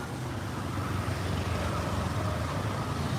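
Cars and other vehicles in Cambodian traffic, some swinging into the oncoming lane to turn, make a continuous, fairly loud rumble of engines and tyres.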